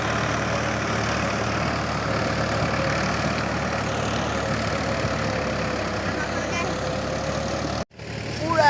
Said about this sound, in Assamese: এতিয়া পুৰা বৰ ট্ৰেক্টৰ মাৰি আছে